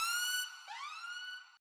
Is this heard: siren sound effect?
yes